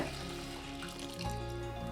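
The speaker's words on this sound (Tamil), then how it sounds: "இப்போ புளி வந்து கரைச்சி விட்டதை இது கூட சேர்த்துக்கலாங்க" Tamarind water is poured into a frying fish curry masala for Koduva meen kuzhambu, a steady close splashing pour of liquid heard alone.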